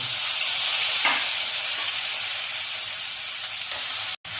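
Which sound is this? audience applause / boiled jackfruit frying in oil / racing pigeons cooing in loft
boiled jackfruit frying in oil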